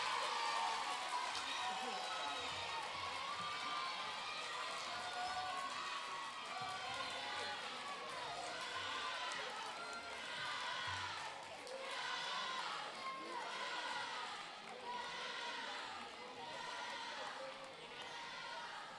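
An audience at a narrative-prize award ceremony applauds and cheers for a winning ikastola school, producing a steady, dense wash of clapping and crowd noise that holds evenly throughout, with voices mixed in.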